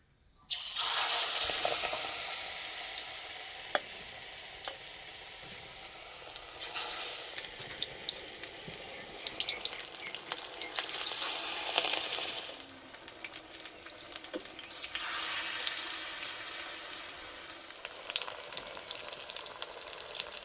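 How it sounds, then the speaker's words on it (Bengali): Fish roe fritters wrapped in pumpkin leaves and dipped in gram flour batter sizzle loudly and continuously in white oil in a kadai, easing briefly partway through, with no voices. "এবার ভেজে নেব। কড়াইয়ে দেবো সাদা তেল।"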